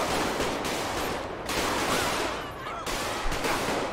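Rapid bursts of in-game gunfire from a GTA 5 highway patrol shootout, loud and dense, with broadband crackling volleys that cut in and out across the moment.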